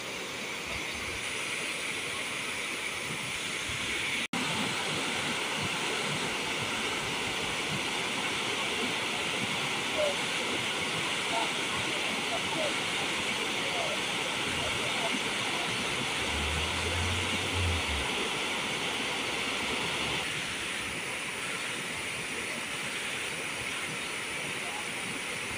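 Water rushing down from the mountains beside a lake in autumn, a steady broadband hissing roar that holds for the whole stretch, with a brief low thump partway through.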